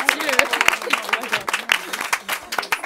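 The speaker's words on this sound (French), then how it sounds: "on applaudit, allez, bravo" Scattered applause from a small audience at a Burger Quiz-style quiz game, uneven bursts of clapping mixed with lively overlapping voices and laughter close by.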